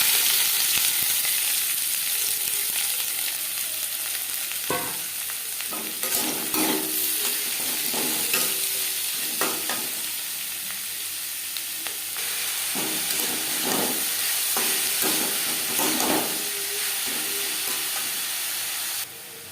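Onion, tomato and crushed garlic fry in a little refined oil in a wok for chicken patty filling, with a steady sizzle and hiss under irregular scraping stirs of a spatula, close and fairly loud.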